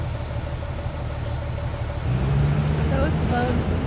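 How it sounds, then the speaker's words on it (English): A truck in Brooklyn street traffic idles with a steady low drone amid roadway noise, growing slightly louder toward the end as a voice speaks over it. "If this truck would get out of my way"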